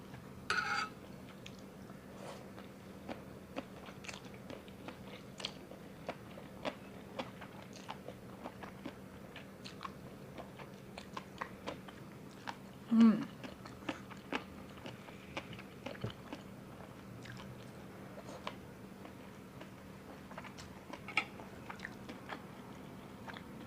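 Crunchy Thai glass noodle and seaweed salad being eaten, with soft, close chewing and crisp bites that repeat steadily, now and then a faint clink of utensils, and one louder bite partway through.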